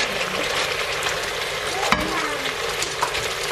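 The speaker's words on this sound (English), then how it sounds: "So let's just fry it a little bit longer, let it cook" Ox cheek beef stir fry with mushrooms frying in a pan, a steady loud sizzle with occasional stirring clinks and scrapes.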